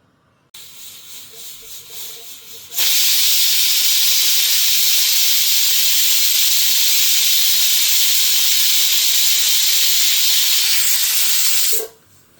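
A pressure cooker cooking peas paneer pulao lets off a loud, sustained whistle of escaping steam; a softer pulsing hiss builds first, then the full blast holds for about nine seconds before cutting off.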